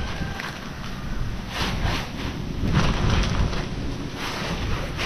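Strong outdoor wind buffets the microphone with a steady broadband roar that swells in a few gusts and never lets up. No voices are heard.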